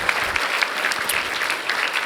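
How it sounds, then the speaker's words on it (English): An audience at the Roblox Developer Conference 2018 gives a steady round of applause after an engineering panel, a dense even wash of many clapping hands throughout. "So a big round of applause to everyone who helped answer questions today."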